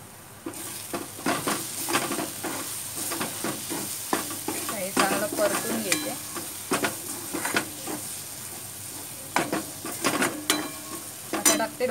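Spices with garam masala, red chili powder and capsicum sizzle in a hot pan while being stirred, a steady frying hiss broken by frequent scraping strokes of a spoon.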